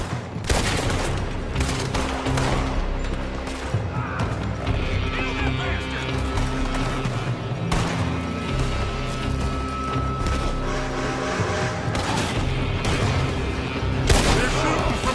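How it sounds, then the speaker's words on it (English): Rapid gunfire in Red Dead Redemption 2 crackles through a dense battle scene, with repeated shots and bursts mixed with horse hooves, music and shouting voices. "They're shooting from that building."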